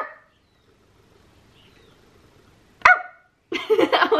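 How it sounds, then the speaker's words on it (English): A single sharp dachshund bark rings out after quiet, followed by a louder, longer burst of barking close by, early in the morning. "Charlie and I were woken bright and early at 6:30 by Dickie just doing a really loud bark every 10 seconds."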